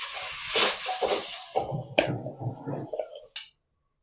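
A spoon clinks and scrapes against a bowl while stirring tempering into coconut chutney, several close metallic taps before the sound cuts to silence.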